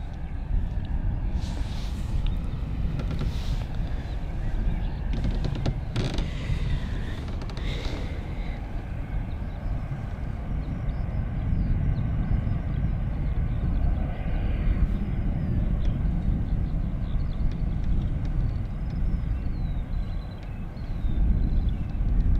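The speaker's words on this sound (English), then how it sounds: "I can hear the engine start actually of the A320" An Airbus A320 jet engine spools up at Bristol Airport after pushback, a steady broadband roar rising under wind and distant airport noise throughout, with a few brief higher tonal whines.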